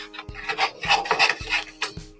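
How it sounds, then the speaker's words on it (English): Ombre specialty paper being trimmed for a Stampin' Up! tag, giving a series of short rasping cuts at a steady rhythm, close up and alone with no talk. "I'm just going to trim this to make it easier to go through the machine"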